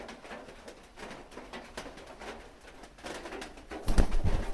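A female pigeon coos softly in low, rolling burbles nearby, followed by a brief louder rustle toward the end.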